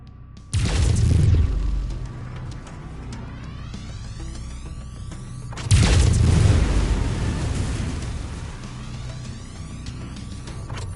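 Weapons firing from a mech in MechWarrior 5, two heavy booming blasts a few seconds apart, each with a rumbling tail and sweeping whines, loud and close with no talk.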